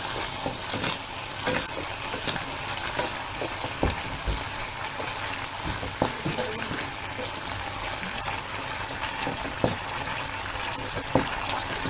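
Coca-Cola heating in a pot on a stove, fizzing and bubbling from its gas while being stirred, a steady soft sizzle with scattered clinks and scrapes of stirring throughout.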